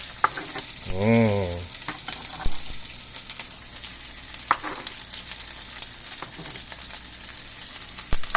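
Thai shrimp with chilies and basil sizzling in a frying pan as it is stirred around, a steady oil crackle with occasional scrapes and clinks of the utensil, fairly quiet and with no talk.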